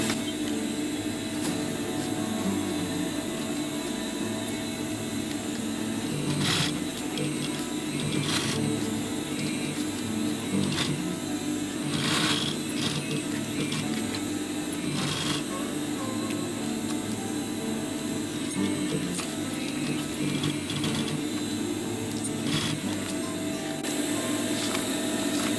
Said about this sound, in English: I'm opting for sewing it here